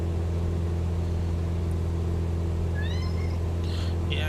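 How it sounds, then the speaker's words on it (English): Cat meows near 3 seconds, two or three short rising cries over a loud steady hum of a small airplane cabin in flight. "I got a kitty crying behind me"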